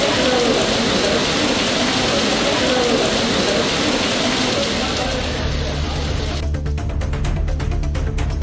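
Moderate rain pours steadily over a hill town, a loud, dense hiss that runs throughout, turning near the end into sharper, rhythmic patter.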